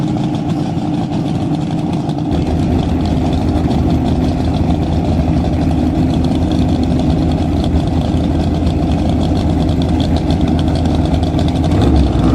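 A land speed racing car engine runs at Bonneville Salt Flats during Speed Week, a loud steady rumbling idle with dense low-end throb held throughout and a slight rise near the end.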